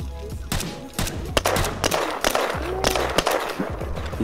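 Gunfire in Minecraft Will to Live Online comes as a close, irregular string of sharp shots, rattling bursts mixed with single cracks and game noise throughout.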